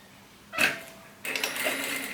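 A sewing machine stitches a thermal bag with a 0.5 cm margin: a short whirring burst, a pause, then a longer steady run of rapid stitching, close and moderately loud.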